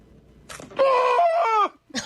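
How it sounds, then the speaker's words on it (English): A man lets out a loud, strained, pitched yell as a wax strip is ripped from his beard. The cry rises and wavers like a cartoon shriek, holds for about a second, then cuts off. "They said he screamed like a cartoon character."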